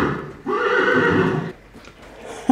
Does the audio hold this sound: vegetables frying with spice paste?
no